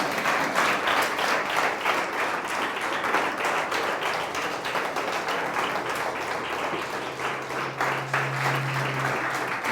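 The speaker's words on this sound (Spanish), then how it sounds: "Dele un aplauso al Señor." A church congregation applauds for nearly ten seconds, with dense, sustained clapping from many hands filling the room at an even level and no break.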